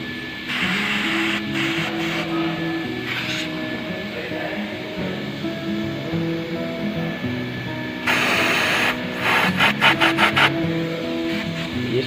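Super lubricant is sprayed from an aerosol can onto car front suspension nuts and joints in several hissing bursts, a longer close spray near the end followed by short rapid puffs.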